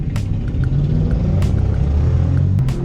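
Loud Terminator Cobra car engine idling and rumbling nearby, a deep steady low growl with slight fluctuations and a few faint clicks, heard alone without talk.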